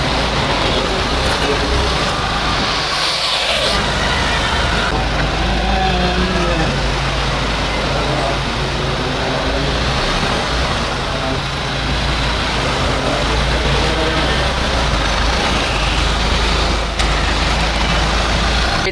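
Hyundai Staria Cargo van with a six-speed manual gearbox driving on a road, heard from inside the cabin as a steady low engine and road rumble with wind and tyre noise throughout.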